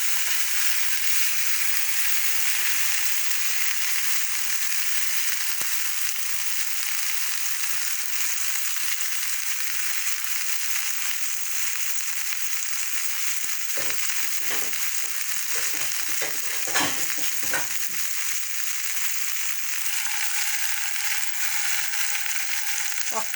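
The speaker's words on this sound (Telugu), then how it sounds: "ఒక్కసారి కొంచెం లైట్గా వేగాలి, పచ్చిపోయే వరకు." Okra pieces frying lightly in a pan, giving a continuous gentle sizzle with a few brief stirring scrapes and clatters near the middle.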